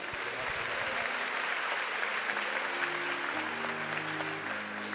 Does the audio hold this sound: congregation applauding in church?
yes